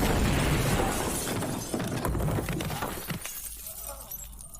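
A loud blast with shattering debris and crackling, roaring for several seconds before fading into quieter rumble.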